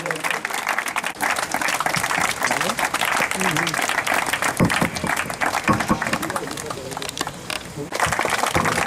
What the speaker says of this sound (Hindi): तालियों से हार्दिक अभिनंदन करिए।